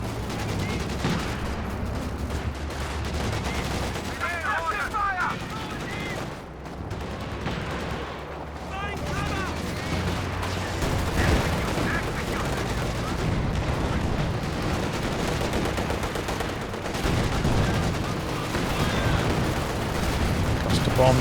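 Constant battle din from Company of Heroes 2, a 3v3 match: dense rolling gunfire, bomb blasts and explosions pile up with no break, while a voice speaks over the fighting.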